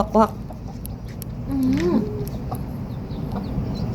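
A single hen at her laying spot gives a short, sharp cluck, then a low warbling call follows over steady background hum; no speech.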